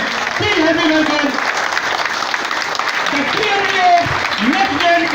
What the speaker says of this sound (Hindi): एक बार पुनः जबरदस्त तालियों के साथ में मेरा सहयोग कीजिए